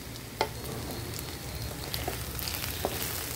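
Okra and potato fry in oil with a kalo jeera and methi tempering, a soft, even sizzle with a few tiny pops, quiet and close.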